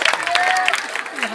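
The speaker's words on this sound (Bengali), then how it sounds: "সবাই আমরা হাততালি দিব।" Audience applause at a school prize-giving ceremony, a dense burst of hand clapping from a crowd, steady and fairly loud throughout, with faint voices mixed in.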